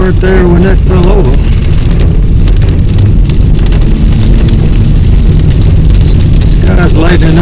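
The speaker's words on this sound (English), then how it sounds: "This kind of rain will clean all the ditches out." Heavy thunderstorm rain drums steadily on a car on a secondary road, a dense continuous wash with engine rumble beneath, while people talk over it inside.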